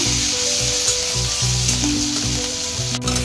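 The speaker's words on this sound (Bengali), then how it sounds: "এবার একটু কষিয়ে নেব।" Cumin seeds, garam masala, ginger paste and slit green chillies sautéing in oil in a pan on low flame, a steady close sizzle with occasional stirring scrapes and no talking.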